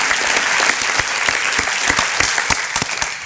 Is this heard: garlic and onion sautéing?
no